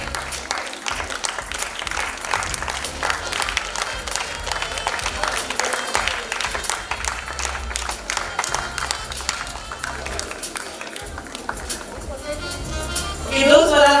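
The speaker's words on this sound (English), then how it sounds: "Big round of applause." At a guitar music show held by a Pune music academy, an audience gives the performing guitarists a long, steady round of applause. The dense clapping runs throughout, with a voice coming in near the end.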